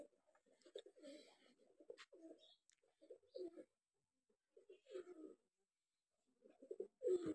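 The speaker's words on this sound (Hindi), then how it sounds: "कबूतर है।" Soft, low pigeon coos come from a mother bird and her young nearby, repeating in short throaty bursts with quiet pauses between them.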